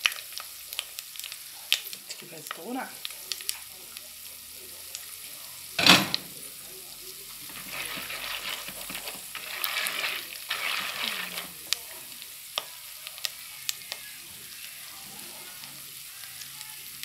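Caramel popcorn kernels pop in a pan on the stove, scattered sharp cracks over a soft background sizzle, with one loud pop standing out midway.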